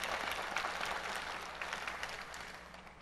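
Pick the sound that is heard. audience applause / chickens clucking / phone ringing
audience applause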